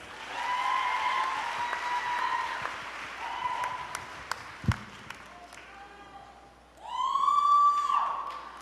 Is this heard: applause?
yes